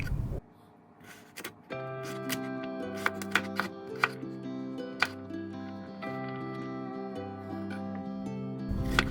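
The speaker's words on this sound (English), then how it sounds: "And we'll chop up some carrots, or you can use frozen carrots." A knife chops carrots on a board in a run of sharp, uneven taps, mixed with background music, and a voice is briefly heard at the start.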